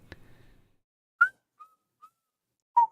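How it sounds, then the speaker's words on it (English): A person whistles a few short notes on a livestream, with the whistle repeatedly chopped off by noise filters so that only brief bursts and clipped tones get through, separated by gaps of silence after a faint rumble at the start. "Let's test a whistle."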